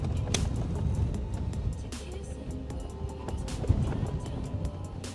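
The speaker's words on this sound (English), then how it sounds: "The wind has picked back up." Wind blows across an outdoor golf course in San Marcos, Texas, making a loud, continuous rumble and buffeting against the microphone, with faint voices underneath.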